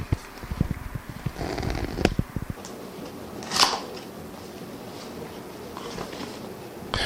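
Cardboard packaging of a DJI camera box being torn open by its green pull tab, a quick series of close crinkling, ripping bursts followed by a few faint rustles and taps.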